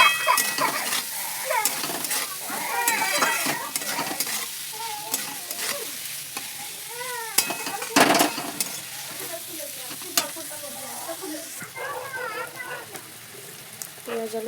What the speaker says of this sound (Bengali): এখানে দিয়ে দিয়েছি পেঁয়াজগুলো সব। পেঁয়াজগুলো ভেজে নেবো আলুটার সাথে।